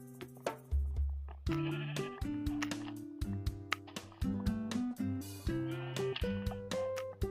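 A sheep bleats in a video game among game sounds and music, with several short bleats over a busy layered background.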